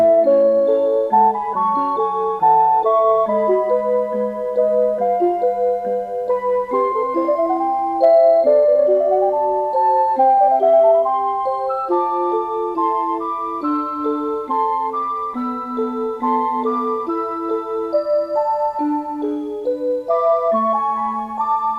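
A Seiko Melodies in Motion wall clock plays a tune from West Side Story, a steady chiming music-box melody of clear, bright notes heard alone and at even loudness throughout.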